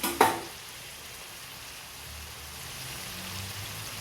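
Duck meat and onions fry in a pan: a sharp sizzling burst at the start settles into a steady, fairly quiet crackling hiss.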